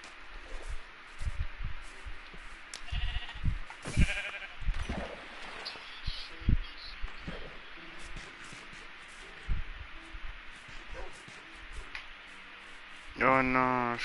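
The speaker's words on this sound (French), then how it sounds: "il y a du mouton par là" Sheep bleating in the Minecraft survival game on PS4, a few short bleats scattered among game sounds and footsteps, with a louder bleat near the end.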